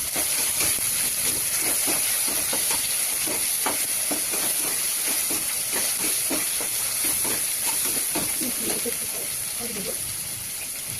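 Garlic, ginger and onion sizzle in a hot pan with a loud, constant frying hiss, while a spoon scrapes and stirs in irregular strokes underneath and someone talks over it.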